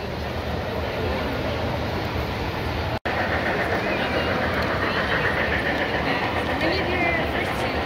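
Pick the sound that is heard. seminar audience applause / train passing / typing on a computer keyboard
train passing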